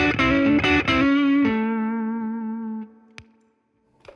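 An electric guitar through a Tube Screamer overdrive pedal hits a short run of gritty chord stabs, then lets one chord sustain and decay into near silence, with small clicks at the end; close and prominent, no voices.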